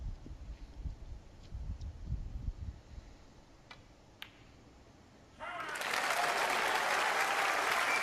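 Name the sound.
snooker crowd applauding a pot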